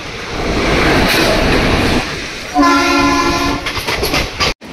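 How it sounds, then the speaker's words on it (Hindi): The Intercity Express rushes past at a station with a loud, roaring rumble; midway a strong multi-toned horn sounds for about a second before the noise thins and fades. "ये जा रही है इंटरसिटी एक्सप्रेस"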